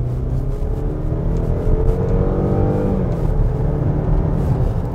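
A Range Rover Velar SUV's engine revs steadily under acceleration, a continuous loud, smooth drone whose pitch climbs gently and then eases, heard alone with no talk.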